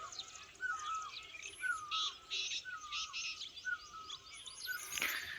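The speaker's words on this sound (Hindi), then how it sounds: "चिड़ियों की चहकने की आवाज़ सुनो, क्या गजब है।" Several birds chirp and tweet in short repeated calls, fairly distant, over a soft outdoor hiss in the Himalayan mountains of Dwarahat, Uttarakhand, with a louder burst near the end.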